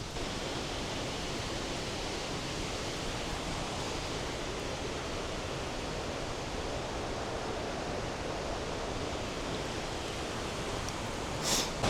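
Uryu Falls in a Kochi gorge gives a steady, even roar of falling water at moderate level, unbroken and with no voices.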